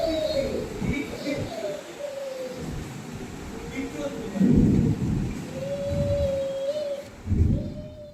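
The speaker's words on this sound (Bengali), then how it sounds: "বাইরে ভীষণ মেঘ, বিশাল বৃষ্টি, মেঘ ডাকছে, বাজ পড়ছে" Thunder rumbles in deep, low swells during a heavy storm outside, over a constant wash of rain, with voices and other tonal sounds intermittently over it.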